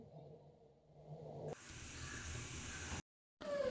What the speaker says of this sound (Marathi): तवा तापलाय का चेक करूया पाण्याचा शिंतोडा देऊन